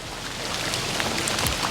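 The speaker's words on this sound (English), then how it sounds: "it's back raining" Rain falls outdoors in a dense, steady hiss with scattered sharper drops tapping nearby, loud and unbroken, with nobody speaking.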